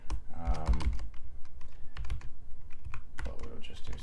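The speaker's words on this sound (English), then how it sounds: "It's kind of annoying that you have to type it all out manually." Code is typed on a computer keyboard, quick close clusters of key clicks and clacks, with a person talking over the typing at times.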